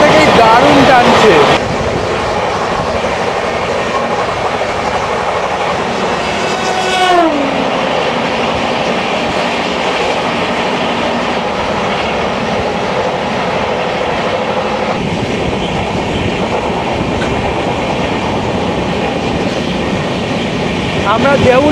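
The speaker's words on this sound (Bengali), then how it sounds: "ট্রেন কিন্তু আন্দুল পার করার পর থেকেই দারুণ টানছে।" The Tamralipta Express runs from Howrah toward Digha, a loud continuous rumble of wheels on rails with rhythmic clatter and a horn blast early on, heard from on board at speed.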